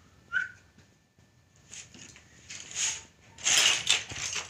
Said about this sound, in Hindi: पापा जी की सीटी बज गई तो देखो, पता है वो सीटी बजाएंगे ना